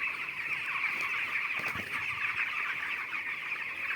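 Steady chorus of many chickens clucking in a poultry farm housing about 6,000 birds, a dense, continuous murmur of calls filling the space without any talking.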